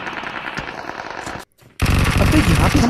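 Rapid automatic gunfire in Battlegrounds Mobile India (BGMI) during a mobile battle-royale match: loud, dense bursts of shots, a brief near-silent gap, then heavier sustained firing until the end.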